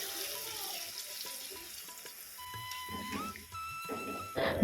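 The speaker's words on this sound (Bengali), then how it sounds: "এবার আমি পরিমাণ মতো জল দিয়ে দেবো" Water poured into frying spice paste for katla fish kalia, a sputtering, bubbling sizzle that grows louder and more intense toward the end, with clinks and stirring in a kitchen.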